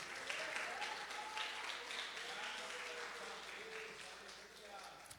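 A church congregation claps hard for Jesus at the close of a sermon, steady broad applause with voices and exclamations rising over it, moderately distant and even in level.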